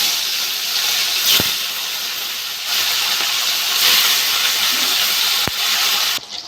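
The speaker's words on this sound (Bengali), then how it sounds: "সবগুলো তুলে নিয়েছি, এগুলো একইভাবে ভেজে নেব" Rohu fingerling pieces fry in a pan of oil, giving a continuous close hiss that swells and eases. A couple of sharp clicks cut through before the sound drops away at the end.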